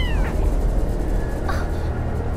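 A small cat meows in the video game Garena Free Fire, two short rising calls, one at the start and another partway through, over a constant loud background bed.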